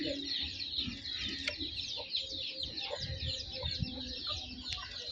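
Desi village hens cluck and chatter together nearby, a steady layered stream of calls with a few brief sharper squawks and no speech.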